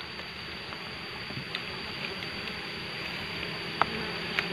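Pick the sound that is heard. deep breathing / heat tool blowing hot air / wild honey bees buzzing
wild honey bees buzzing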